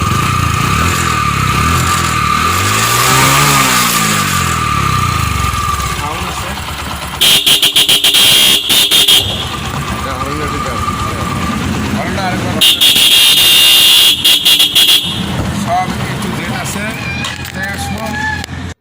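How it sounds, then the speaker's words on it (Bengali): A Bajaj Discover 100 cc motorcycle in fresh condition starts and idles at a bike shop. The engine runs loud and close, with a steady throb broken twice by buzzy, beeping bursts. "গাড়ি স্টার্ট সাউন্ড"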